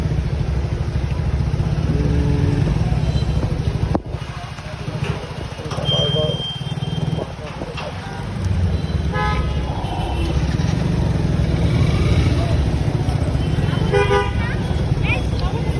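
Dense Mohammadpur traffic jam with motorcycle and car engines idling and rumbling close by, several short horn toots breaking through near the middle and end, and voices talking over the din.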